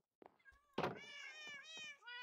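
Minecraft cat meowing several times in quick succession, clear and close, with a thump partway through and no speech over it.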